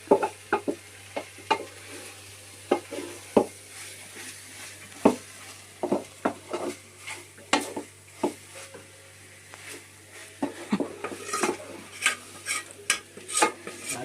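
A spoon stirs beef fry in a pan with irregular scraping clicks and taps over a faint steady sizzle, close by, without talk.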